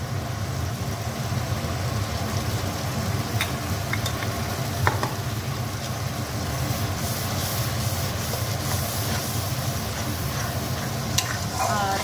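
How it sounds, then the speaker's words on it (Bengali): Spice paste with turmeric sautéing in oil, a steady close sizzle with continuous low rumbling and occasional scraping clicks of stirring, no talking. "এখন এটাকে বেশ কিছুক্ষণ কষাতে হবে, যতক্ষণ না এটা থেকে তেল ছেড়ে আসবে"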